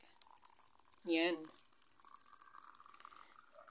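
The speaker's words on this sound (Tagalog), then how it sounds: "At syempre, huwag natin kalimutan ang mainit na tubig." Hot water is poured into a cup of milk with added sugar, giving a brief gurgling pour of about half a second amid faint clinks and background hiss, with a short spoken word nearby.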